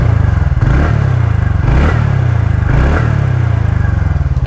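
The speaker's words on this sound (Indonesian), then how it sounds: "dia suaranya sedikit ngebas dan agak-agak mirip kayak knalpot bobokannya" A TVS NTORQ 125 Race XP scooter's exhaust idles and blips close up, a deep, slightly bassy throb that swells in three or four repeated revs, loud and steady with no talk.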